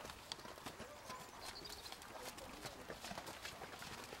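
Horse hooves cantering on the footing of a dressage arena during flying lead-change practice, a steady rhythmic clip-clop at moderate distance with faint ambient noise.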